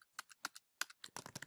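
Fingers type on a computer keyboard, a quick irregular run of sharp, close key clicks in short bursts, heard alone without talk.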